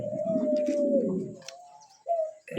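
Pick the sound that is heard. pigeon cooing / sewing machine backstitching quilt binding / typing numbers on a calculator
pigeon cooing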